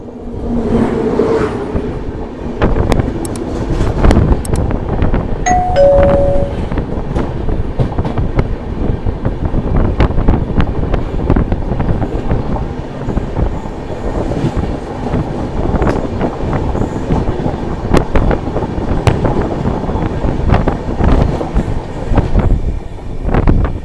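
A Madhya Pradesh Sampark Kranti Express rolls past another train on the line near Damoh, heard from inside a coach as a loud, continuous rumble with rhythmic clickety-clack, sharp wheel clicks and a brief squeal early on, with no voices.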